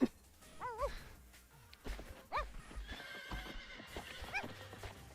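A horse in a video game whinnies repeatedly, high wavering neighs recurring between hoof clops and snorts, fairly close and moderately loud.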